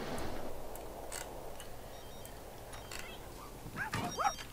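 A dog in The Sims 3: Seasons game whimpers and yips, short whines rising near the end over quiet game ambience with a few faint clicks.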